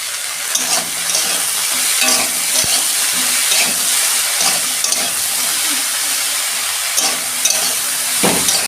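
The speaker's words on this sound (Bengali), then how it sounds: "দেখুন আমার সবজিগুলো ভাজা হয়ে গেছে, ঢেলে ফেলছি।" Mixed vegetables fry with salt and turmeric in a pan, producing a loud, continuous sizzle broken by repeated scraping strokes as they are stirred, with no voices.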